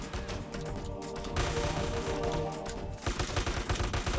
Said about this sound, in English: Enemy reinforcement, they're bringing up heavy guns.